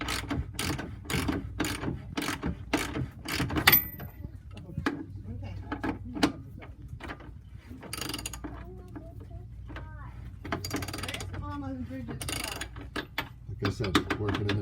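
Rapid ratcheting clicks of a wrench backing off an 18 mm bolt on a Porsche 911 (996/997) front thrust arm in a driveway, bursts of quick pawl clicks with pauses and a voice talking intermittently.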